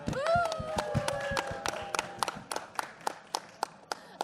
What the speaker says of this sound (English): let's give a big round of applause for everyone here